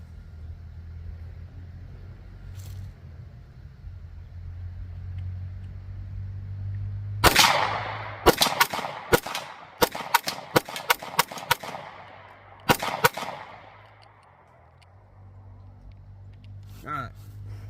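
A Taurus G2C pistol fires a rapid string of about ten sharp, loud gunshots in quick succession at a shooting range, with a low engine-like rumble running underneath and a brief pause before a final pair of shots.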